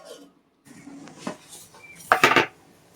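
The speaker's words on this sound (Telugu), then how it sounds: "కొంచెం సేపు మూత పెట్టుకుందాం." A metal lid is set onto a pot of ragi sangati, a thick finger-millet and rice porridge, giving a loud cluster of close clanks and rattles near the end after some softer kitchen handling.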